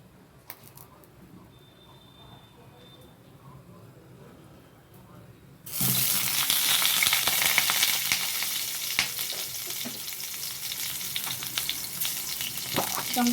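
Eggplant pieces hit hot oil with a sudden loud burst of sizzling after a quiet start, then keep crackling and spitting steadily close by.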